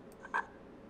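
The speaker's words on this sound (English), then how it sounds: "That's the ribbit." A frog's ribbit sound effect plays back from a wave file as one short, sharp croak, clear and alone against a faint background hiss.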